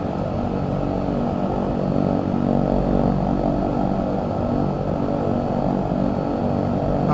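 Propeller airliner engines at full propeller setting in the X-Plane flight simulator, a steady, loud, droning roar with a low throbbing hum that holds constant throughout.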